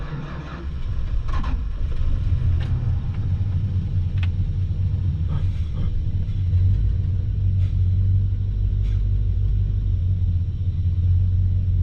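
An older carbureted car with a worn starter fires up after a turn of the key, catching within the first second and settling into a steady, loud low rumble that runs without a break to the end, with no talking.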